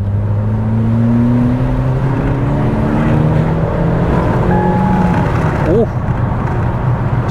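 Engine induction noise from a Ford C-Max while driving: a loud, steady droning roar with rising and falling tones as the engine pulls, heard up close from inside the car.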